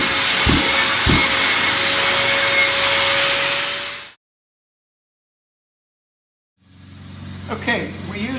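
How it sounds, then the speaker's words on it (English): A diamond wheel grinder hooked to a HEPA shop vac grinds paint off concrete, a loud steady roaring hiss with a couple of sharp knocks, then cutting out to silence before the rough grinding noise resumes. "we're going to use this HEPA shop vac attached to a diamond wheel grinder"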